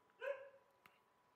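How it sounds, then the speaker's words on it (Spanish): A small pet dog gives one short, high bark, heard faint and somewhat distant in a quiet room, followed by a brief soft knock. "espero no se escuche ahí nuestra perrita que está ladrando"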